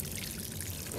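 Water is poured onto a pineapple plant in a garden, giving a soft, continuous splashing pour that runs evenly through the brief moment at a low level, with no talking.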